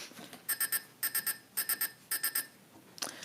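A buzzer or alarm-like electronic tone beeps in repeated groups of three short pulses, sharp and steady over a quiet room background, with a brief noise at the end.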